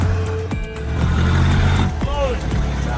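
A heavy timber truck's engine drones steadily as it labours along a deep, muddy forest road, a low continuous rumble with occasional clanks and higher whines, under a voice narrating.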